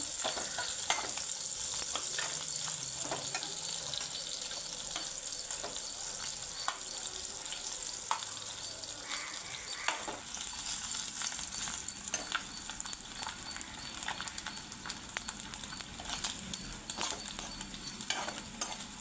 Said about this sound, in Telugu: కళాయి పెట్టుకుని వెండి చేపలు అయితే వేయించుకుంటున్నానండి కొద్దిగా ఆయిల్ అయితే వేసుకుని